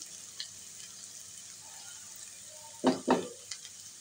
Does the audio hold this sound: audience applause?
no